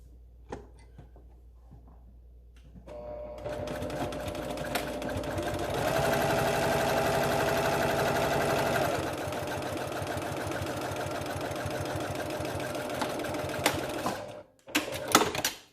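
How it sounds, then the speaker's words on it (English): A sewing machine stitches along the outer curve of a fitted fabric face mask with a liner: a steady, close mechanical whir that starts after a quiet moment, runs about twelve seconds with a louder middle stretch, then halts. "you're just going to sew along the outside curve"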